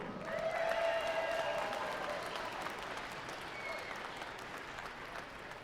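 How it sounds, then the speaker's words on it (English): An arm wrestling event audience gives a round of applause for the sponsors, the clapping loudest at the start and then thinning gradually while staying steady. "Huge round of applause for all of our sponsors making today possible."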